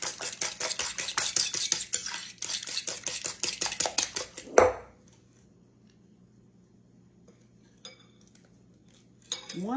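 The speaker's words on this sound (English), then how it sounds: "Stir that around real good." Custard pie mixture for an egg custard pie stirred briskly in a bowl, a utensil clinking and scraping in a fast steady rhythm for about four and a half seconds, ending with a knock before near-quiet.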